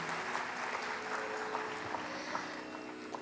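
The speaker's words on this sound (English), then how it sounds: "Please give them one more round of applause." Audience applause after a dance performance at a Bharatanatyam arangetram recital, a dense, steady wash of clapping heard from a distance and fairly quiet, lasting the whole moment.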